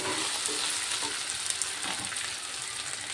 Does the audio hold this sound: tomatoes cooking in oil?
yes